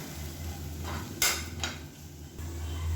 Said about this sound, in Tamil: இப்போ இதை வந்து எண்ணெயில் லைட்டாக வதக்கி விட்டுக்கலாம்.